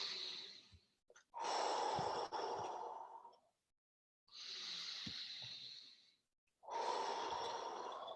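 Slow, deep breaths in and out during a guided breathwork session, each long breath stretching over a couple of seconds with short pauses between, close and fairly loud with no talking.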